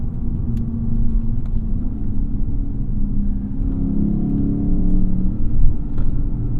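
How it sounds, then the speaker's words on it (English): A 2016 Lexus GS F with an aftermarket exhaust, its V8 engine giving a steady deep rumble while driving, rising slightly as it accelerates, loud and close with no talk. "But the main reason you buy this car is for that engine."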